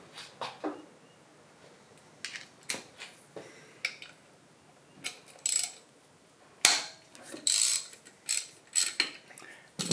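Ratcheting wrench clicks loosening alternator mounting bolts on a John Deere 755 compact tractor, a 12 and a 13 at the adjusting point; repeated short bursts of ratchet and metal clicks, close and fairly loud, with pauses between.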